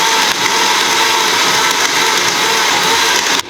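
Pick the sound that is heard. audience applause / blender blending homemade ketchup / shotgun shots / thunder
blender blending homemade ketchup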